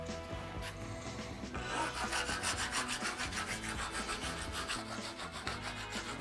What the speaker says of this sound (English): Rasping the inside of that